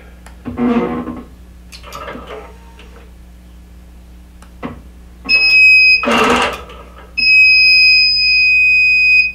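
An embroidery sewing machine warns that its thread needs reclipping, sounding two steady, high electronic beeps of about a second each after a few soft mechanical clicks and taps, with a low hum behind.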